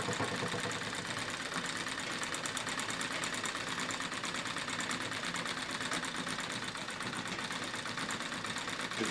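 Treadle sewing machine quilting through denim runs as a steady, rapid mechanical chatter, close and even throughout, with no pauses.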